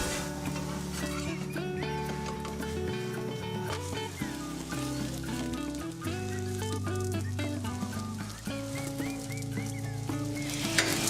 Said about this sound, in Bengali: এখন আমি উপর থেকে হালকা করে সাইড দিয়ে অল্প একটু তেল দিয়ে দেব, দিয়ে এখন পরোটাটা উল্টিয়ে দেব।